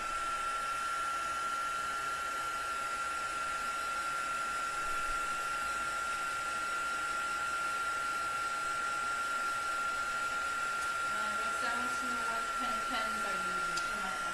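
A heat tool blows a continuous, loud, steady whoosh while drying dye-based ink on a mixed media card, running unbroken throughout and close up.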